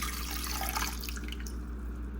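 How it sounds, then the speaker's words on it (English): Water from a salsa jar poured into a cooking pot, a steady close splashing stream over a low hum, with no talking. "I'm going to dump that water in there too. Here's our water going in."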